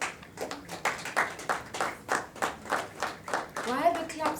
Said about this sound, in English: Why are the claps dying out?